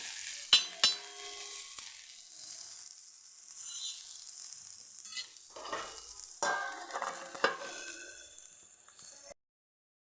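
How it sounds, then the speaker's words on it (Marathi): Garlic cloves being stir-fried in a pan for eggplant bharit, crackling sizzle with intermittent spatula scrapes and clinks, close and fairly quiet, ending abruptly in silence. "लसणाच्या पाच सहा पाकड्या टाकून घेणार आहे यामध्ये याला परत परतवून"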